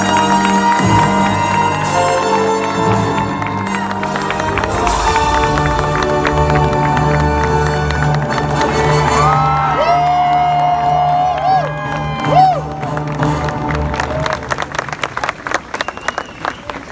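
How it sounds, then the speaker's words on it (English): A celebration audience applauds and cheers at length, a dense wash of clapping and whoops with a speaker's amplified voice briefly heard over the crowd noise near the end. "one more round of applause for these legends"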